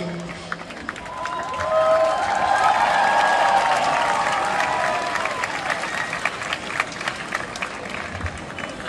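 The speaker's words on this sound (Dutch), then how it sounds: "geef ze een geweldig applaus, jongens" A crowd applauds and cheers TeamNL at an outdoor homecoming celebration, steady massed clapping swelling to a peak midway and then easing off, with some voices mixed in.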